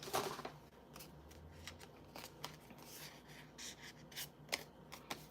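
Quiet snips and paper rustling as scissors cut out a paper design meant for transfer onto a wood piece, faint, irregular and close, with no talk.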